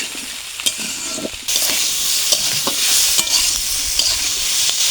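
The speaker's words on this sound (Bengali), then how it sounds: "লবণ দিয়ে নিয়েছি, ভালো করে ভেজে নেব।" Chopped ash gourd (chal kumro) with turmeric and salt frying in a pan, a loud close sizzle that jumps in intensity after a moment, punctuated by repeated scraping stirs.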